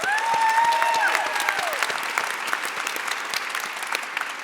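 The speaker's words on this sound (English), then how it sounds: "We should applaud that again." Audience applause in a conference hall, a dense burst of many hands clapping that starts loud and slowly thins, with a brief whistle-like tone near the start.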